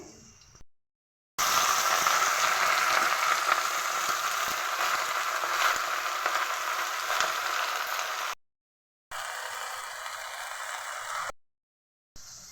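Red amaranth greens fry on a home stove with a soft, steady sizzling hiss, broken by brief silent gaps, faint and without talk.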